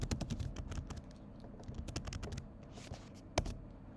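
Rapid typing on a computer keyboard, with quick bursts of close key clicks that thin out into scattered taps and one sharper keystroke near the end.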